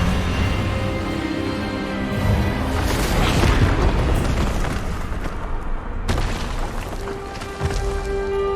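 Expelliarmus spell blast in the Hogwarts Legacy game: a loud, sustained booming roar swells and rumbles, with a sharp crack partway through and a lingering tonal hum afterward.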